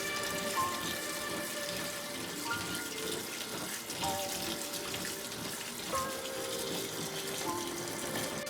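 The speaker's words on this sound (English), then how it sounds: "rinse them thoroughly with running tap water to get rid of any" Tap water runs steadily into a sink for several seconds, with faint clinks and sloshing as cooked soba noodles are rinsed underneath.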